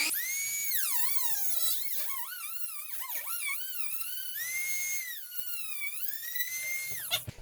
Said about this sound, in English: I'm gonna leave my Dremel a little bit longer in there to make it a little bit wider